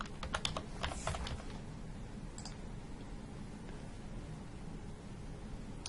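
Quick bursts of keystrokes on a computer keyboard during a login, clustered in the first second and a half with a few scattered clicks afterward, close and fairly quiet over a low steady background hum.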